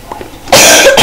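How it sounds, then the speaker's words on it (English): One harsh, close cough bursts out, preceded by faint breathing, from a player during a Minecraft Bridges minigame session; a second cough starts at the very end. "Sorry for all this coughing,"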